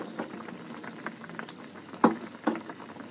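Ridge gourd curry boiling in a pot, a soft continuous bubbling simmer with a few louder pops and gurgles, heard close and alone.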